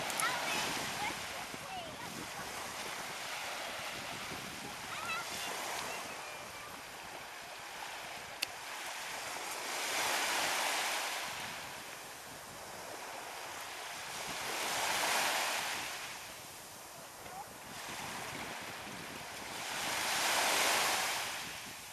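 Ocean surf rolls onto Barefoot Beach, Florida, in steady waves that swell and recede every few seconds under constant wind noise, with no voices.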